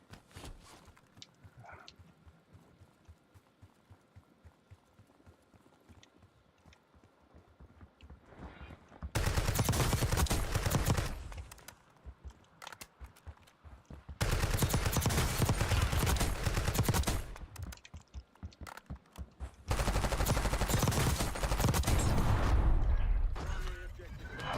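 Sustained automatic gunfire in Call of Duty: Warzone, three long loud bursts separated by short gaps, after a quieter stretch of faint rapid clicking.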